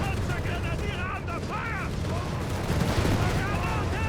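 Rapid gunfire and autocannon bursts from armored cars with grenade explosions in the strategy game Company of Heroes 3, a dense loud barrage under an excited commentator's continuous talk.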